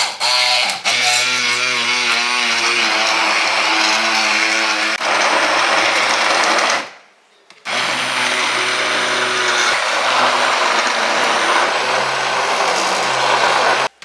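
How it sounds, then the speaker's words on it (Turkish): A blender whirs loudly and continuously, its motor pitch shifting as it purees tomatoes, stops briefly, then roars back for several more seconds. "domatesleri blenderdan geçirip iyice eziyorum."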